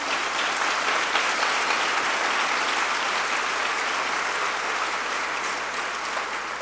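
A church congregation applauds during a Spanish-language sermon, a dense, steady wash of many hands clapping at once that holds at full strength throughout, with no voices rising above it.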